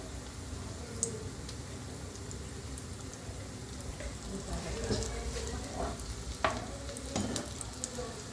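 Fish chops frying crisp in hot oil in a double-coated wok, a continuous close sizzle with scattered clicks and scrapes of a utensil turning them, faint talk in the background.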